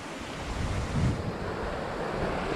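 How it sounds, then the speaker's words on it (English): Ocean waves break steadily on the St. Croix shoreline in the US Virgin Islands beside a beach bar, a continuous close surf wash with wind buffeting the microphone and a brief swell in loudness. "It's right on the shoreline, got the waves breaking."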